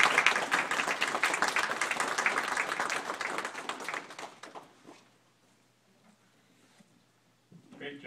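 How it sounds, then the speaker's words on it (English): An audience gathered over tea and cookies claps together, with loud, busy applause for about four seconds that then tapers off into quiet, followed by a brief rustle at the end. "You can clap."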